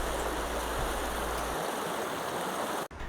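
Sope Creek water rushes and splashes over rocks in a dense, steady wash, close and continuous, cutting off abruptly at the end.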